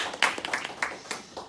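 A church congregation gives a short burst of welcoming applause during a Sunday service, scattered hand claps from a small group, light and uneven, fading within a couple of seconds.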